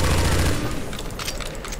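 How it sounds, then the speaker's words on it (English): Gunfire aimed at zombies during a Counter-Strike: Source zombie escape match in a bathroom-themed map, a steady dense barrage of shots continuing throughout at moderate loudness. "Okay, humans, get behind the blue sponge and keep shooting them."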